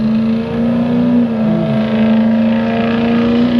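A Ford F-350 truck engine with its muffler removed drones loudly and close by, a steady raw hum that wavers briefly in pitch midway, with no voices over it.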